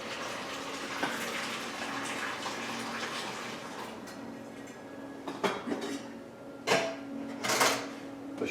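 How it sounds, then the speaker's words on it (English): Boiled broccoli drained in a home kitchen: a steady trickle of water poured off, then several sharp clanks and knocks of a pot and utensils near the end. "Just pouring off the water."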